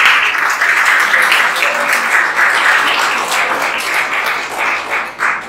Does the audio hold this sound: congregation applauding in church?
yes